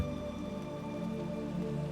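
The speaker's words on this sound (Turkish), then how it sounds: "yavaş yavaş yağmurun sesiyle birlikte" Steady rain falls continuously, a soft even patter on surfaces with no pauses, alone and without voices, in a calm meditation setting.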